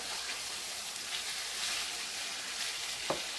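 Steak sizzling in a pan after being turned with a wooden spatula, a quiet, even frying hiss filling the whole stretch with a small tap near the end.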